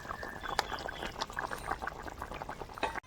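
Leafy greens and tender stalks dropping into a pot of boiling potato curry broth, a continuous wet bubbling and sizzling splash with scattered pops and crackles, fairly close and steady, cut off abruptly at the end.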